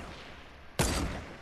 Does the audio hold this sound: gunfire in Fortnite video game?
yes